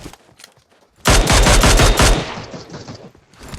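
Rapid automatic gunfire in a multiplayer shooter game erupts after a second of quiet, a loud sustained burst lasting about a second, then fading into softer trailing shots and ambient game sound.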